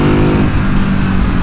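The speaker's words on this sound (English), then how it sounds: "this has got more exhaust fartage" A Ducati Hypermotard 950 SP motorcycle's exhaust rumbles loud and close with a deep, throbbing engine note under acceleration, the sound steady and unbroken throughout.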